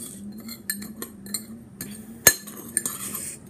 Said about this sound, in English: So you're gonna mix it, and you're gonna make like a little hot sauce little mix.